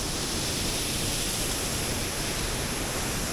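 Water rushing steadily at Vattayi waterfall in Thrissur, a dense, loud, unbroken roar of flowing water filling the whole stretch with no voices.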